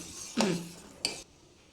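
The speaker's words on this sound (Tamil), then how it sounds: "நல்லா இந்த மாதிரி கொதி வர வர ஒரு கரண்டி வச்சு கிண்டிகிட்டே இருக்கணும்" A ladle knocks against a pot of milk coming to a boil while paneer is being made at home: two short, close metallic clinks about half a second apart over a quiet background.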